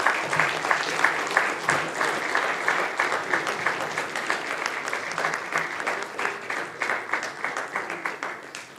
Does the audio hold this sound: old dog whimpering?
no